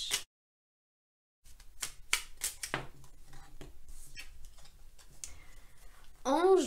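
Oracle cards are shuffled and drawn in a quiet room, giving a run of soft papery flicks, slides and small clicks close to the listener, with no voice over them.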